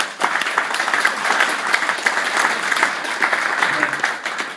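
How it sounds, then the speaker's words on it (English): Crowd applause at a rugby league club's 100th anniversary dinner, dense steady clapping from many hands filling the room, with faint voices mixed in beneath. "I think that deserves a clap for it"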